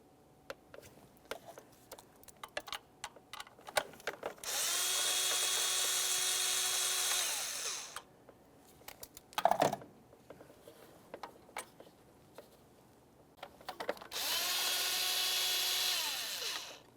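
A power tool whines through two sustained bursts of several seconds each while backing out 10mm bolts on an engine line bracket of a 2017-2023 GMC Acadia 3.6L V6. Quiet clicks and handling noises fall between the bursts.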